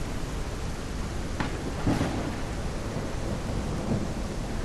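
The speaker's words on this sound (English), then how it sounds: "Go inside, mate, it's raining." Rain and thunder in the VR kayaking game Kayak VR at night, a steady dense hiss of rainfall with a low rumble of thunder partway through, continuous and fairly loud with no talk.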